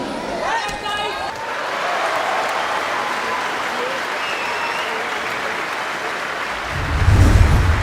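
Team supporters cheering and clapping for a gymnast preparing her second attempt at a Pro Gymnastics League competition, a steady crowd roar with a few rising tonal calls early on and a louder burst near the end.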